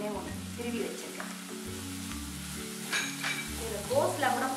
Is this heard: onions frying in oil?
yes